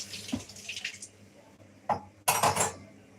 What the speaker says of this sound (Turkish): Bulaşıklar vardı. Onları yıkıyorum bu arada.